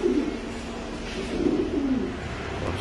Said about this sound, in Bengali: কবুতর ছাড়ছে।